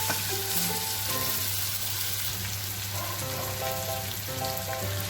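Chicken with spices sizzles and fries on a hot tawa in a steady, close crackle, with a low background hum and a few soft tonal clinks over the spitting oil.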